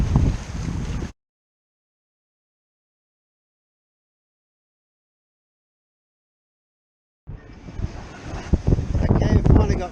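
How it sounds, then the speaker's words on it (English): Steady wind of 20-plus knots buffets the Nova 28 sailboat Connie at sea. A loud, rumbling roar sounds at the start, drops out into a long silence, then returns as gusty, thumping noise. "the wind's settled down to a steady 20 plus knots"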